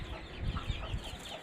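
Backyard hens raised at home for their eggs, clucking in a short, steady stream of low bursts close by, with no voices.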